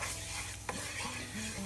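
Liver and onions fry in oil in a pan, giving a steady close sizzle throughout, with a light scrape of stirring partway through.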